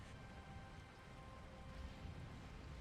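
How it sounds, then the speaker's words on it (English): Steady rain drums on the ground during a night storm, a faint, continuous patter with low rumbling underneath and no voices. "The rain has found a rhythm now, a relentless drumming on the earth."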